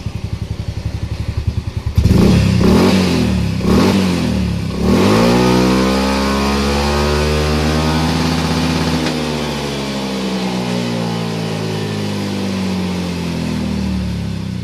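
A Yamaha M3 motorcycle engine revs hard from idle in several quick blips, then climbs in a long sustained sweep toward maximum RPM before easing, loud and close with no talking.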